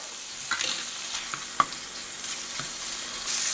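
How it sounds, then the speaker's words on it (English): Quiet, steady sizzling of butter in a hot skillet with wood duck breast, with a few soft taps and pops scattered through it. "that butter's starting to sizzle"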